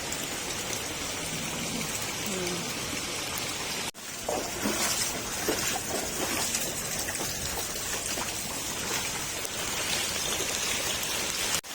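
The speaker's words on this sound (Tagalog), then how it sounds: "So, tuloy-tuloy po yung ulan." Heavy rain pours steadily, a dense continuous hiss of drops hitting surfaces, with a brief break partway through before the downpour resumes.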